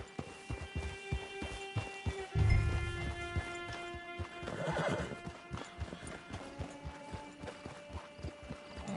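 A horse in a PS4 video game whinnies loudly while its hooves clip-clop in a steady rhythm close by, with a faint hum underneath.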